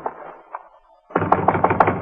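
Knocking on an office door at night: a short run of four or five sharp, evenly spaced raps, close and fairly loud, following a quieter stretch with faint bumps.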